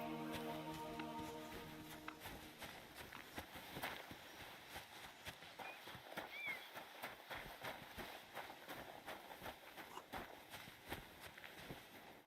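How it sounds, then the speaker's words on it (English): Horse hooves clip-clopping in the Kingdom Come Deliverance video game, a steady rhythmic walk close by, continuing throughout alongside faint game ambience and a brief musical tone at the start. "That's my horse."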